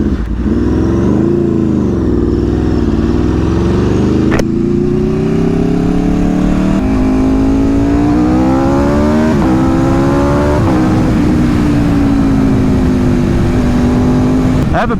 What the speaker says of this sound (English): right now, the exhaust sounds absolutely fantastic